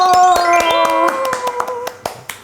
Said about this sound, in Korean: 오늘의 게스트를 박수로 모시겠습니다